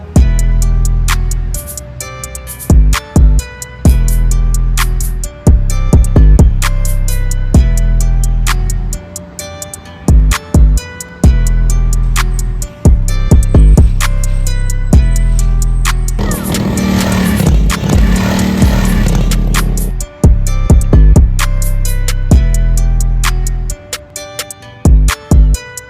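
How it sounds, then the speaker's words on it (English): Loud, continuous engine sound from a restored barn-find Suzuki Savage 650 motorcycle being ridden, a dense rumbling drone with repeated revving and gear-change dips and a rougher, noisier stretch midway. "The bike runs great. It's got plenty of power for a little 650, honestly."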